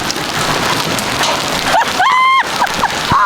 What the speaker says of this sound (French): Oh mais c'est pas la pluie, c'est la grêle!